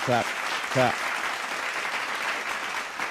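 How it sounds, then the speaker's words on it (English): Applause from a small studio audience welcoming a guest on a music show, a steady patter of clapping with two short voiced calls near the start. "Let's get a round of applause."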